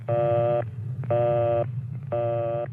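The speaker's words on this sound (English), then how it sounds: "If the line is busy, you'll hear this busy signal." An old rotary-dial telephone busy signal: three evenly spaced tone bursts with short silences between, steady and clear over a low background hum.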